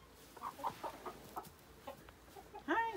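Chickens cluck near a coop, a string of short soft clucks spaced irregularly at moderate distance, ending in a louder, longer squawk, with no voices.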